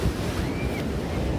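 Surf rolling onto an ocean shore, a steady broadband wash with wind noise buffeting the microphone throughout, loud and continuous without distinct breaks.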